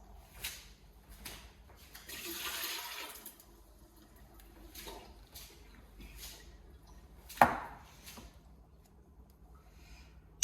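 Ice-cold water is drained off eggs that were cooked in a Ninja Foodi pressure cooker and pours briefly into a sink, followed by quieter trickles, light clatter and one sharp knock.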